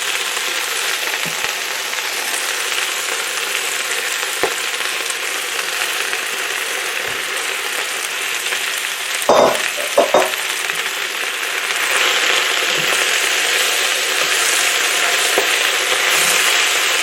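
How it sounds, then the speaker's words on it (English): Collard greens with garlic sizzling and cooking in a pot, a steady loud frying hiss throughout, broken briefly by a few clanks of stirring and a swell of louder sizzle toward the end. "I'm going to cook my collards a little bit until they get a little bit wilted."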